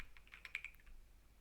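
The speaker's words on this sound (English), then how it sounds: "I will type" Typing on a computer keyboard, a brief quick run of soft, close key clicks, quiet and alone.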